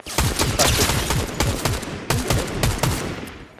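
Rapid bursts of video game gunfire crackle loudly and close, a dense run of shots over a few seconds with brief gaps between volleys.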